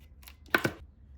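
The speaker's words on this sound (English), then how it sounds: "And cut off any tail left." Scissors snipping off a leftover yarn tail on a crocheted sardine bag charm: two quick close cuts, sharp and brief, in an otherwise quiet room.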